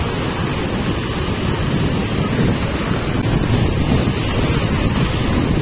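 Surf and strong wind on a Black Sea beach at Sunny Beach make a loud, continuous roar, with wind buffeting the microphone throughout.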